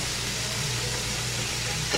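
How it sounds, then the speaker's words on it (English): Cut-up butter melts in a hot pan while being stirred, giving a close, steady sizzle with soft scraping of the utensil and no talking. "So we're just going to continue stirring this up until it's completely"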